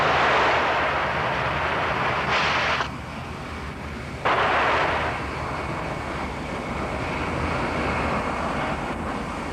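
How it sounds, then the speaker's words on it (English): A new aircraft design on a minimum unstick takeoff test, nose lifted high and tail scraping the runway, heard as a loud broad roar that drops out briefly twice before returning steadily. "It's to see what happens if a pilot lifts the nose up too high, too soon, and scrapes the runway."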